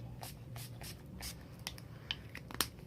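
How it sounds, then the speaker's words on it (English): NYX First Base professional primer spray misted from a can onto a face, several short hissing bursts of uneven length spread across three seconds, close but fairly quiet, with no talking. "I'm going to start with this First Base by NYX Professional Primer Spray"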